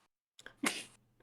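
A single short sneeze from a person at a tabletop role-playing game session, a quick sharp burst after a faint intake, close and quiet overall.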